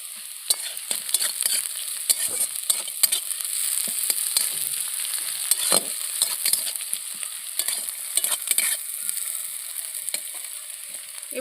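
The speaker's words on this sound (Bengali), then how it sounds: "এবার আমি কাঁচা লঙ্কা কুচিগুলো দিয়ে দিচ্ছি" Chopped green chillies sizzle in a pan with already-reddened onions, a steady frying hiss broken by frequent sharp stirring scrapes and clatters, close and without any voices.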